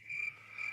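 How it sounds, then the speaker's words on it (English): A cricket chirping sound effect gives a thin, high, steady trill in two short bursts, quiet and alone over a faint low hum. "Can we put some cricket sounds between?"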